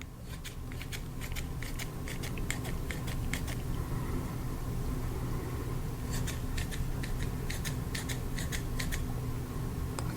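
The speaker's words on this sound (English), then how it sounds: "now some of the scissors" Rapid bursts of crisp snipping, several clusters of quick cuts separated by a pause, over a steady background hiss.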